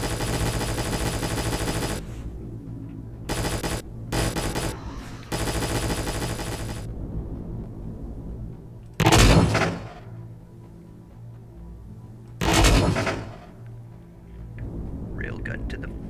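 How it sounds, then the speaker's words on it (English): Railgun blasts from a hover tank in a video game, heard as two sharp, loud bursts a few seconds apart. Rapid machine-gun style fire comes before them, and a voice speaks quietly in the gaps. "Railgun to the face."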